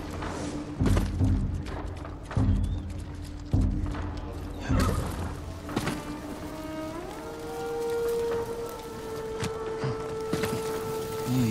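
Horse neighs and hooves from Ghost of Tsushima: heavy rhythmic hoof thuds in the opening seconds, then a long rising whinny that carries to the end, with game music underneath.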